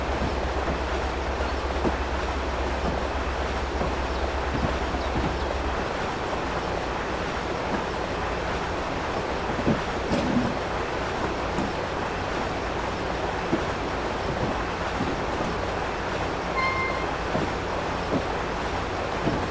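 A Virginia Railway Express commuter train in a video game rolls steadily along the rails with a continuous broad rumble and faint clicks, a low hum fading early, no voices.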